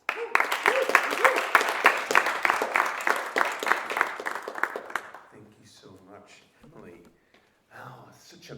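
Audience applause welcoming the first speaker at a school World Speech Day event, a loud dense burst of many hands clapping for about five seconds before fading, followed by quieter murmuring and someone speaking.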